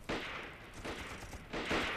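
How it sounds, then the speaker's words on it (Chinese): Gunfire in a staged wartime shootout crackles in three distant, muffled bursts of rapid shots, spread evenly across a couple of seconds with a hissy background between volleys. "院子怎么有枪声啊？"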